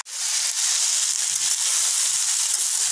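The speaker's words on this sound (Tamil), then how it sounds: "அதனால் நம்ம மசால் நல்லா வதக்கி எடுத்துக்கலாம்" Green masala paste sizzles steadily in a hot pan as it is sautéed, a loud, continuous close-up hiss with no voices over it.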